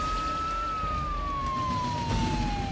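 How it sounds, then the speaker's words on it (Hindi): A police siren played from a mobile phone: a steady tone slowly sliding downward in pitch, loud and thin-sounding, over a rumbling background, as if from a small speaker. "मैंने अपने मोबाइल से पुलिस की सायरन बजाई थी।"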